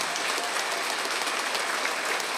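An audience claps in dense, even applause at an astrology book launch event. The sound is steady and close, with no break across the short stretch.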